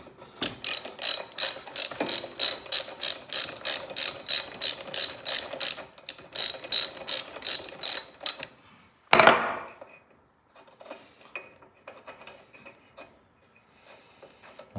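Ratchet with a 5/8 socket loosening a spark plug on a Briggs and Stratton lawnmower: a long series of rapid, evenly spaced clicking bursts close to the mic, then a sharp metallic clunk and a few scattered faint clicks.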